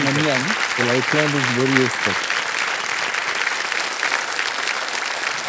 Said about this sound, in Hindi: ताली बज जाए